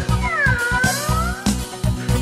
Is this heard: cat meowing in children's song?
yes